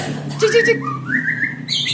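A white-rumped shama songbird gives short whistled and squawking calls, rising and sliding notes close by over a faint background.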